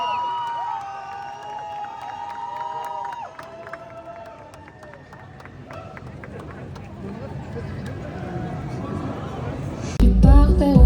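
A large festival crowd at a Musilac concert cheers and chatters throughout, with a louder surge of shouting near the end. Someone sings over amplified music, and voices are heard close by.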